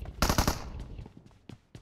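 An enemy player's gun in PUBG Mobile fires a rapid burst of about five loud shots, followed by a few fainter, scattered single shots, with no talk over them.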